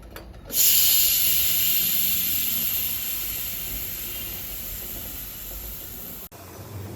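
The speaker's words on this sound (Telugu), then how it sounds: "నాలుగు విజిల్లు వచ్చినాయండి" A pressure cooker cooking lentils for gongura dal vents steam in a loud, steady hiss after its whistles, starting abruptly, holding for about six seconds, then cutting off sharply.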